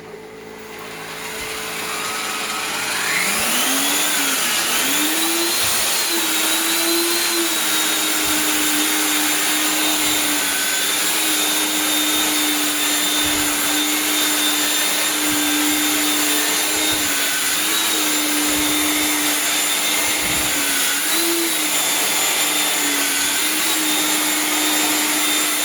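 A mixing machine churning dry sharp sand and cement, three parts to one, spins up from quiet into a loud, steady whirring drone with a rising pitch, then runs on continuously with faint knocks and scrapes and no talking.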